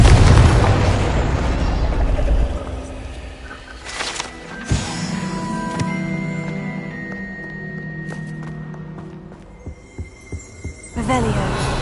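A Confringo spell bursts in Hogwarts Legacy: booming fiery explosions with deep thuds and ringing magical tones, then a quick run of sharp pops and a final burst, loud and with no voices.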